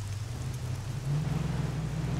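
Rain in the military video game ARMA 3 falls as a steady broadband hiss over a low rumble that swells slightly partway through, with no talking.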